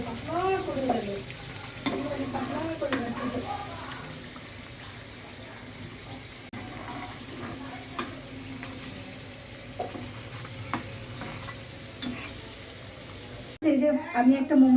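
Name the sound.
snack frying in oil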